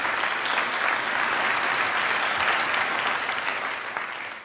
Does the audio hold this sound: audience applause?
yes